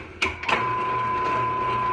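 A cold press juicer switches on to process kale, cucumber, lemon and lime, giving two sharp clicks and then a steady, close mechanical whir with a fixed motor tone.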